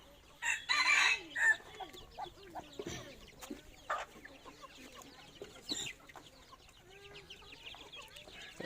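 A rooster crows in a short loud burst near the start, followed by softer clucks and chicken calls at moderate distance, with faint talk in the background.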